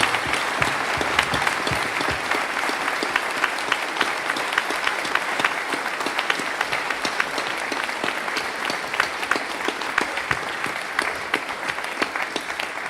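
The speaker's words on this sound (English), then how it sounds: "let's give that an enormous round of applause for all of those people" Festival audience at a Twin Peaks UK Festival Q&A applauds enthusiastically, a sustained, even roar of many hands clapping with occasional sharper claps standing out, continuing steadily for the whole stretch.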